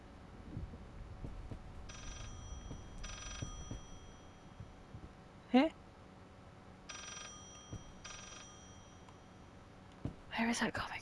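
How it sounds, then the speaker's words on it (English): Telephone ringing in the horror video game Layers of Fear, with two pairs of electronic rings separated by a pause. A person whispers and reacts quietly between them. "There's another phone!"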